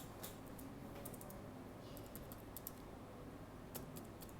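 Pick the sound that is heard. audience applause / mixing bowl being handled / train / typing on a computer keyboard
typing on a computer keyboard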